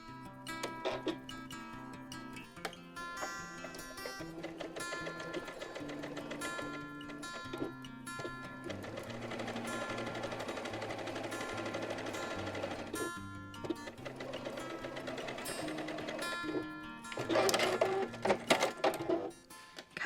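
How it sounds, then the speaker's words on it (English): A sewing machine stitches off the very edge of fabric for a headband, rapid ticking stitches running steadily under background music and growing louder toward the end. "Sewing off the very edge"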